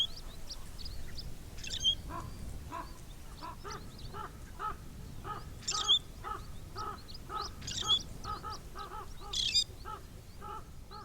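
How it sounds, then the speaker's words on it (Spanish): A raven in the forest landscape of Teide National Park gives repeated hoarse caws in an irregular series, clear and moderately close above a faint background hush. "el sonido, el graznido del cuervo, podemos decir que es una parte importante del paisaje forestal de las cañadas del Teide"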